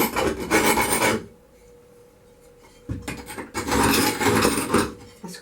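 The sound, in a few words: quick scrape of a stained glass piece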